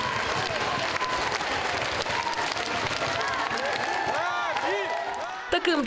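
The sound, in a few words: concert audience applause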